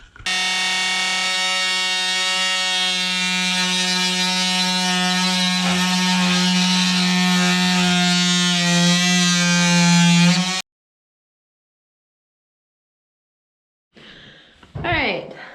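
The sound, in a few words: dado blade shaving down maple boards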